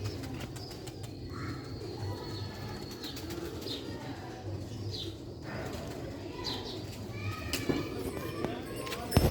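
Pigeons coo softly and flutter their wings nearby while someone talks over them almost throughout.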